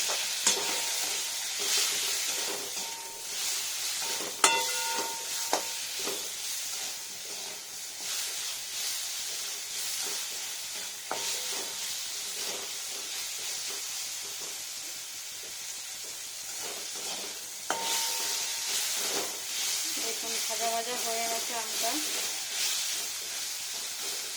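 Mango pieces with salt, ginger and turmeric frying in a pan for a sweet mango chutney, a continuous close sizzle and hiss with scattered utensil taps and stirring scrapes throughout.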